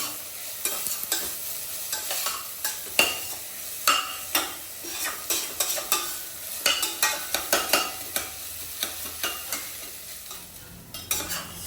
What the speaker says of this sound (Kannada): ಸೊ ಕ್ಯಾಪ್ಸಿಕಮ್ ಹಾಕಿದ ಮೇಲೆ ಒನ್ ಮಿನಿಟ್ ಓಪನ್ ಆಗಿ ಫ್ರೈ ಮಾಡಿ